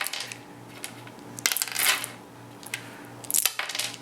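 Buckets of dice rolled for an Age of Mythology board game clatter and rattle across a surface in two loud, close bursts, with lighter tumbling clicks between them.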